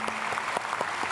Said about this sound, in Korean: 크게 박수로 축복하겠습니다.